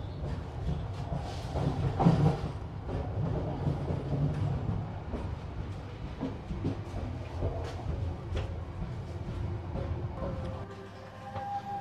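A Matarmaja passenger train rolls along the rails with a continuous low rumble and faint rhythmic clatter, heard steadily from inside the carriage.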